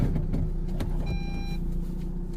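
A car rolls out of a parking spot with a constant low engine and road rumble, a brief mechanical whine rising for half a second in the middle.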